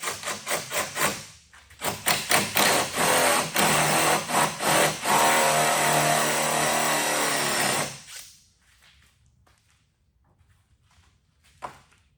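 A power drill drives screws into the wooden legs of a workshop table, with rapid stuttering bursts, then one long steady whir that cuts off, followed by near silence and a single faint knock.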